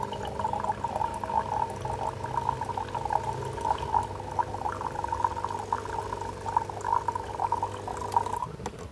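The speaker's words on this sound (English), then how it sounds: "Okay, then after that, we'll flush the hot water as well." Hot water spout of a Breville Barista Pro espresso machine flushing water during a descale cycle, a soft steady trickle over a low pump hum, running for several seconds before cutting off.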